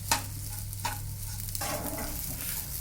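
Turmeric is stirred into basmati rice pulao in a non-stick kadhai, with a few spatula scrapes and knocks over a soft, steady sizzle.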